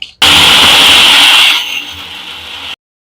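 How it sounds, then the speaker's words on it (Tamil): Mixer grinder whirring loudly as it grinds coconut with fennel into a masala paste, a steady high-pitched roar for about two and a half seconds that eases slightly before stopping abruptly. "இப்ப தேங்காயில சோம்பு போட்டு நம்ம மசாலா அரைச்சுக்கிறோம்."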